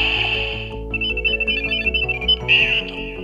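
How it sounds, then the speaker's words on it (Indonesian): A Kamen Rider DX Build Ridewatch toy, button pressed, plays a bright electronic jingle of synthesized tones with a chiming melodic phrase, loud and close. "button DX Build ni dia ada function di mana bila kita tekan dia akan mengeluarkan bunyi"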